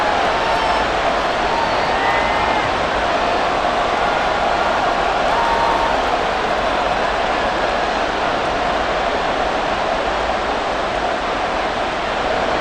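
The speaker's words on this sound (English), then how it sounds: "This crowd turning up the decibel level." A stadium crowd in Madden NFL 24 roars as a continuous, loud, dense wash of noise that holds steady throughout with no clear breaks.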